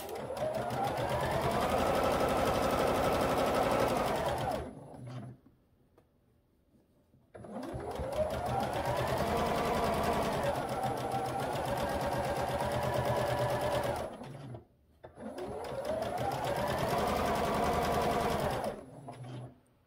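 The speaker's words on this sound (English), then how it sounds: "So I've sewn those together." Quilt blocks being stitched together on a sewing machine: three long runs of steady, humming mechanical whirring, each stopping briefly before starting again, close and clear with no talking.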